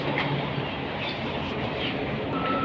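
Steady low rumble inside a Malaysian passenger train, a constant rolling hum of the carriage with faint rattles, no talk, even and unbroken throughout.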